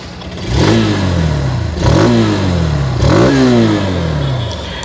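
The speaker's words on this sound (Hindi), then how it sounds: "अब चलिए इसकी जो एग्जॉस्ट साउंड है वो मैं आप लोगों को सुना देता हूँ।" A 160 cc motorcycle exhaust, a TVS Apache 160 4V or Hero Xtreme 160R, is revved three times in quick succession. Each throttle blip rises and falls, loud and close, with no talking.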